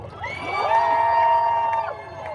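A crowd at a May Day workers' rights protest in Square Victoria, Montreal, rises into loud shouting and cheering that swells, holds for over a second, then eases off, with no single voice standing out.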